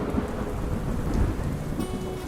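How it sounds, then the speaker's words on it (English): Storm in a Dead by Daylight lore setting, steady heavy rain on surfaces with deep thunder rumbling underneath, dense and continuous with no voices. "a terrible storm struck without warning"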